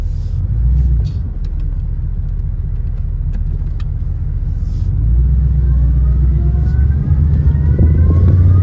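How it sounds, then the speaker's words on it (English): A 1988 Firebird with an LS engine swap, long-tube headers and full exhaust idles and revs with a slight exhaust leak at the header, a loud, steady low rumble that swells near the end, with no talking. "Now there's a slight exhaust leak."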